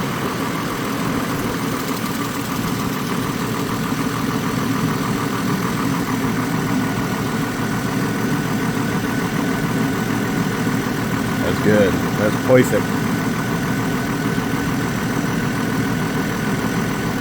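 2002 GMC Envoy engine idling during a clutch fan replacement, a steady low rumble holding constant throughout with a couple of faint clicks late on, while a person talks briefly over it.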